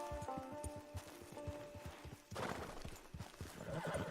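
A horse in the video game Red Dead Redemption 2 Online neighs and snorts amid clopping hooves, then a louder whinny breaks out, with faint background music throughout.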